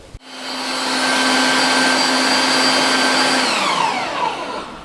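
A mincer grinds meat for bratwurst, its motor starting abruptly and holding a steady loud whine with a droning hum, then spinning down near the end, close and without any talk.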